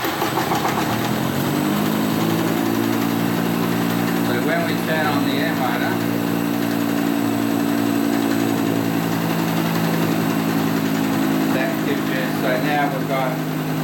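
Electric motors on a CVT clutch test rig with an opposing-torque dynamic clutch start up and run with a steady, loud mechanical hum and whine, close by, with a few faint clicks.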